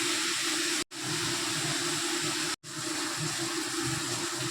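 Onions and tomatoes frying in oil with dried fish, a loud, steady, close hiss of sizzling that cuts out abruptly twice for a moment before resuming.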